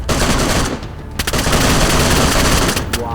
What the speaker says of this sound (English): He's got a machine gun.